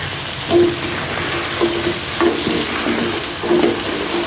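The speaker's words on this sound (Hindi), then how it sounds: "अभी इन मसालों को तो अच्छे तरीके से थोड़ा सा भून लेते हैं।" Spices for mutton karahi frying in a pan with a steady sizzle, several spoon stirs and scrapes breaking through at intervals, close and moderately loud, no talking.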